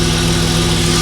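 A BMW E36 engine idles just after a cold start, a steady, loud, close mechanical hum with an even low throb, heard alone without any talking.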